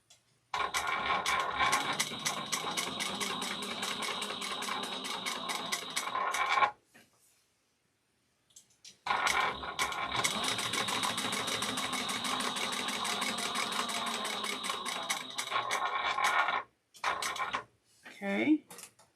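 A sewing machine top stitches a tote bag in two long, fast, steady bursts separated by a pause, followed by short stop-start runs and brief handling noises.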